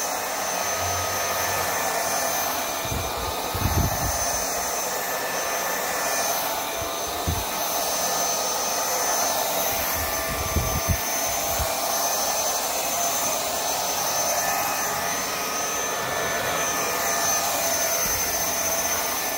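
A Vaclab X11 Pro cordless stick vacuum runs continuously with a steady high-pitched whine and airy rush, close and even, with a few low bumps as the wand is moved.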